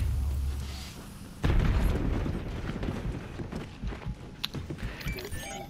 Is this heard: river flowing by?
no